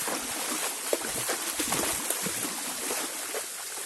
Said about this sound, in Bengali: ঝর্ণার এখানে উপর থেকে পানি নামতেছে।